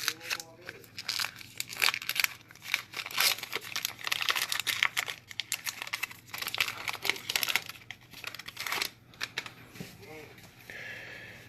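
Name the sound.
tearing open a 2019 Topps Heritage baseball card pack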